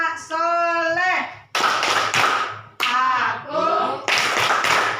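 Children clap hands together in time with a chanted Islamic clapping rhyme in a classroom, sharp bursts of claps alternating with a teacher and children singing the words.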